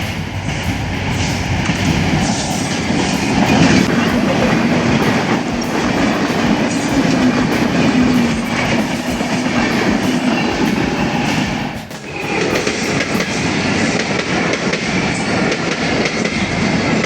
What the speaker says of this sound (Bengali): Let's see the train.